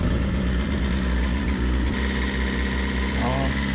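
A 2022 BMW S1000RR M Package sportbike engine runs with a steady, loud mechanical drone as the rider gets ready to move off, while someone talks over it.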